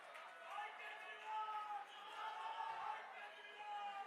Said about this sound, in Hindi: उनका जोरदार तालियों से, जोश से भाई, जोरदार तालियों से स्वागत कीजिए।